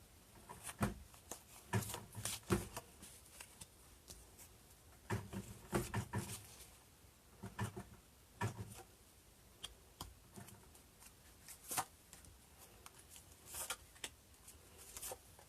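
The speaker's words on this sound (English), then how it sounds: "I actually pulled 5 cards this time." Oracle cards are shuffled and pulled in a quiet room, making soft, irregular ticking and flicking taps in quick bursts, close up and faint with no talking.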